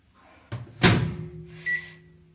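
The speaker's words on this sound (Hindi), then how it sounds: "और मैंने अपना माइक्रो ऑन किया।" A click and a door-like thump, then a brief beep as a microwave starts, its low steady hum continuing afterward.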